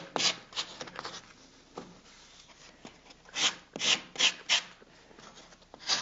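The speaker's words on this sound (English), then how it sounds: "I'm simply sanding that so that it integrates" Rhythmic rasping strokes of the edge of a sheet of sandpaper rubbing against wood, coming in short bursts with brief pauses between them.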